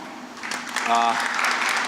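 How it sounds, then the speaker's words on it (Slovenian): An audience at a mobility debate panel applauds to welcome a speaker onto the stage, a moderately loud, steady patter of many hands clapping, with a voice briefly heard beneath it. "Bi kar pozdravil z enim aplavzom."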